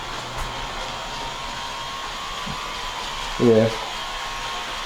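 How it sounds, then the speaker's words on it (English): A Chevy Impala's fuel pump whirs as a steady electric hum, then shifts tone with a brief gurgling rasp as it starts sucking air; a voice speaks briefly. "I think I hear the pump starting to change the tone over there."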